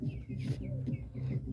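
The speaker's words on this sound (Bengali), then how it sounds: "এখানে একটা মোড়ক পাখি ডাকতেছে" A bird calls close by at a home poultry setup with quail and hens, a repeated low rhythmic cooing with higher chirps, steady and clear with no talk over it.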